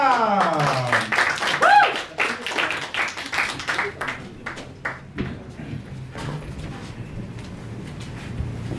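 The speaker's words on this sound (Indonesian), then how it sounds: "Tepuk tangan untuk Wahyu Abdul" Open-mic comedy audience clapping as comedian Wahyu Abdul is called up, a lively burst of many hands over a host's amplified voice that thins out after about five seconds into scattered claps and room murmur.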